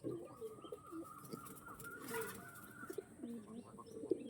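Pigeons of a long, narrow talwar-feather breed coo softly in low repeated calls amid a quiet, busy background of other birds and faint rustling.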